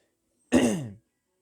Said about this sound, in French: Petit raclement de gorge